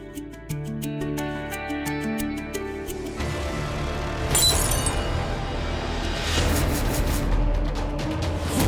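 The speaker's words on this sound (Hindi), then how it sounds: "कांच टूटना तो अब शगुन होता है" Glass shatters in a short, bright crash midway through a dramatic musical score in a television drama scene, with the music swelling around and after the break.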